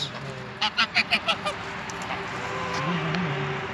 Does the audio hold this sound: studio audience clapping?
no